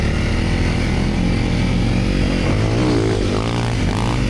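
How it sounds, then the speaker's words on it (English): A Honda CRF250L or CRF300L dual sport motorcycle in second gear revs hard with the clutch slipping, its engine droning loud and strained at close range off-road, alone without talk. "put the bike in second gear, revved up the engine and slipped in the clutch like Erwin taught me."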